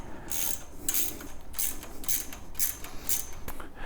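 A wrench ratchets in quick repeated clicks while the bottom bolt is tightened during assembly of a JK270 unit, a close mechanical clicking rhythm with no talking.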